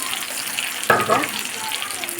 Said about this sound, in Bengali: আমি বাগারটা দেবো কারণ এখন তো বাগারটা দিলে সবজি অনেক ভালো লাগে